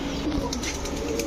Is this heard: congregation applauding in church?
no